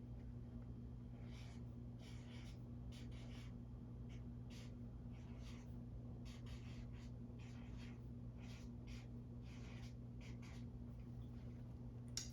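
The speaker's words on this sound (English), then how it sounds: "he will write down contenedor" A marker squeaking and scratching across paper in short repeated strokes, close and quiet over a steady low electrical hum, with faint breathing between strokes.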